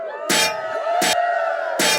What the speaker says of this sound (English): Everybody's clanking. There's all that armor around the table. It's loud.